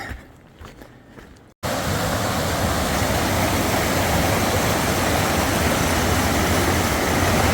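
A small mountain stream flows steadily along a hiking trail near Pinkham Notch, its broad rushing water sound starting abruptly after a quiet opening moment and then staying loud and constant throughout.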